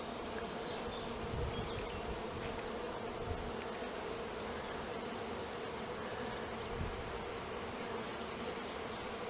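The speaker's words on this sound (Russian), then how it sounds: "Вот так работает пчела." Honey bees buzzing at a beekeeper's apiary, a steady dense drone of many insects close by, continuous and even for the whole stretch with no voices.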